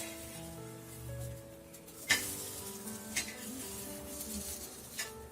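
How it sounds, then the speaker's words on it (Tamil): Egg bread toast sizzles softly in a pan while it is flipped and toasted, with a sharp clatter partway through and a couple of lighter knocks afterward over a quiet, humming background. "இந்த மாதிரி ஃபிளிப் பண்ணி போட்டு டோஸ்ட் பண்ணி எடுங்க."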